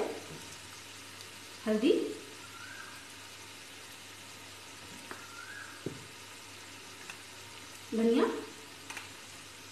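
Besan gatte with spices frying in a pan in a home kitchen, giving a low steady sizzle with two brief louder bursts of stirring, while someone talks over it.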